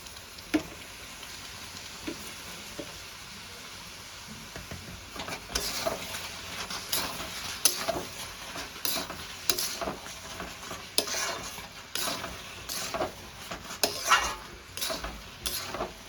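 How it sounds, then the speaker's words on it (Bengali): Cooked rice being stirred into a spinach and spice mixture in a pan for palak rice, with scraping utensil strokes and light sizzling, sparse at first, then more frequent and louder in the second half, no talking. "এবারে আগে থেকে বানিয়ে রাখা ভাতটা অল্প অল্প করে দিয়ে আমি মেশাতে থাকবো"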